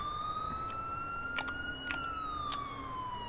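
Police car siren in a video game, a steady electronic wail that rises slowly and then falls, carrying on loudly throughout over a low rumbling background with a few brief clicks.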